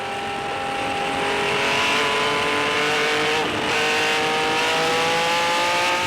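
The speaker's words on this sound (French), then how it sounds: "Elle fait parler la puissance de son moteur de 800 chevaux d'entrée de jeu" Ferrari 712 race car with an 800-horsepower engine, a loud, close, continuous high-revving roar whose pitch climbs steadily with a brief dip between gear changes, racing at the Spa-Classic meeting.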